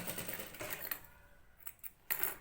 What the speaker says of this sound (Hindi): तो इस तरह से ये मैं सिलाई के ऊपर ही एक सिलाई लगा रही हूँ।